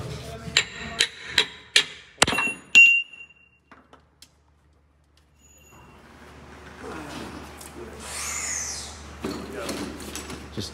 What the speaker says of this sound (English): How about the hammer over there?